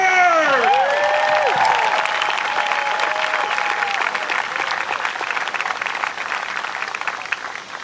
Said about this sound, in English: National Nation, on your feet. Give it up for Bryce Harper